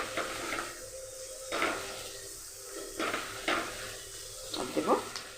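Ginger paste frying in hot oil in a pan for masala dry chicken, a steady close sizzle broken by repeated scraping stirs of a spatula against the pan every second or so.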